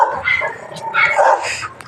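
A dog barks and yips in quick, agitated bursts close to the recorder, with a whimpering edge and brief gaps between calls.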